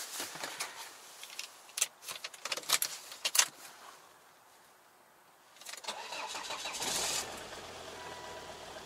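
A Volvo car engine cranks over several times with jangling keys and clicks, stalls briefly, then catches and settles into a steady, close idle.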